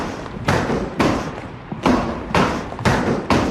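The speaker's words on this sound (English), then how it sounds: "we hear a strange noise, a clunking noise, and Ollie turns around and he sees that Sage is coming down the steps, and she's trailing her rolling suitcase behind her" A rolling suitcase dragged down a flight of house stairs, producing heavy rhythmic clunks roughly every half second to second, each a loud thud with a short rattling tail, alone without talk.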